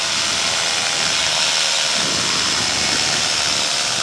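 Paramotor engine held at reduced revs around 6,000 rpm while cruising in ridge lift, a steady, loud, buzzing drone with rushing wind noise and no change in pitch.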